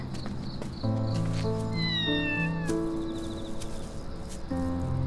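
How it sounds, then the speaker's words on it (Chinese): A small, plump cat meows several times in short, rising calls over soft music, fairly close and clear, with brief pauses between the cries. "小肥猫来， 哎"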